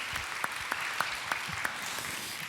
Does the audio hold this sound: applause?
yes